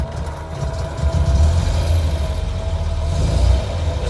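Classic MGB GT engine with a choke carburettor idling after a cold start, a loud, steady low rumble held evenly throughout at close range with no voices.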